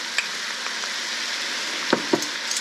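Onion and leek sweating in unsalted butter in a pot for potato leek soup, a steady bright sizzle with a few soft stirring clicks, close and alone without talk.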